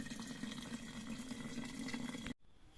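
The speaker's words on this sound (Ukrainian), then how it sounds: "І потихеньку зараз будемо наливати кип'яточок." Boiling water is poured steadily onto elderberries and sugar, giving a close, continuous liquid splashing sound that stops abruptly near the end.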